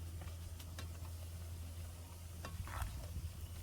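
Herbs including ratan jot roasting in oil on the stove, a quiet steady sizzle with occasional stirring scrapes and small pops, heard alone without talk.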